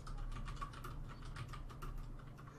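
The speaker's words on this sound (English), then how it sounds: "How are you typing without using your hands?" Rapid keystrokes clatter on a computer keyboard in a steady, irregular run of light clicks, close and moderately loud over a low steady hum, with no voices.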